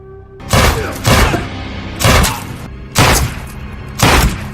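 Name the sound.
gunshot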